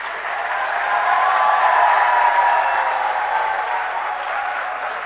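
Loud, sustained applause from a large audience at a comedy event, steady dense clapping throughout with no talk over it.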